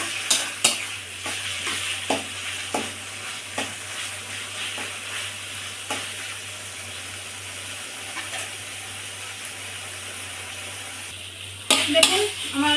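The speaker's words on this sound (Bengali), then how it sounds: "হাতা দিয়ে সুন্দর করে এবার আমি নেড়ে চেড়ে কচুতে যে জলটুকু আছে সেটুকু আমি টানিয়ে নেব।" Taro leaves for a hilsa-head dish are stirred with a ladle in a pan to cook off their water: a soft steady sizzle with repeated scraping strokes, and a louder clatter near the end.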